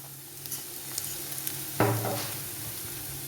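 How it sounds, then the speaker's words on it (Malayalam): Sautéed onions and shallots in oil being stirred with ground black pepper in a pan, a steady soft sizzle under scraping strokes of a spoon, with a sharper burst of frying and clatter partway through. "ഉള്ളി സവോള ഇട്ട് കൊടുത്തത് വഴന്നു വന്നു ഇനി നമുക്കിതിലേക്ക് കുരുമുളക് പൊടി ഇട്ട് ഒന്ന് ഇളക്കിയിട്ട്"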